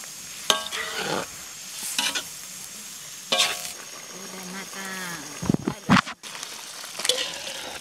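Thick coconut milk bubbles and simmers in a pot with bamboo shoots, a soft, close boiling broken by scraping stirs, while a person talks intermittently over it.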